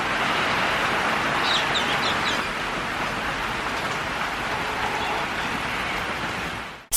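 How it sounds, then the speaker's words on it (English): Steady rain falling outside a studio, a dense even hiss that stays constant for several seconds, with faint chirps like birds or fowl briefly audible under it early on, no voices. "Surprise, surprise! It's raining again!"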